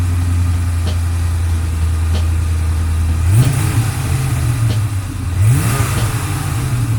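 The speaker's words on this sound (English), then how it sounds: "Idling kind of high, but that's normal for when it first starts up." An SN95 Ford Mustang engine idles high just after start-up at a fast, steady rumble, then revs up briefly twice, close and prominent with no voices.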